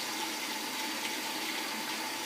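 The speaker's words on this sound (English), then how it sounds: "hot tap water" Hot water running from a kitchen tap fed by a combi boiler, a steady continuous rushing hiss close by with no pauses or speech.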